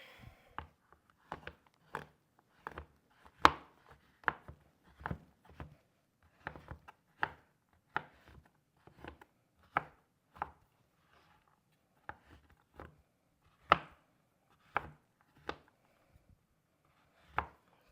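A knife chops a block of chocolate into chips on a board: a steady run of sharp, close taps, about one per half second, with occasional louder strikes and no talking.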